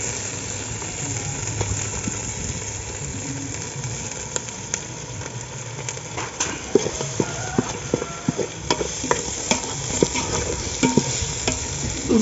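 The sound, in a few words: ginger and onions frying and being stirred in a pan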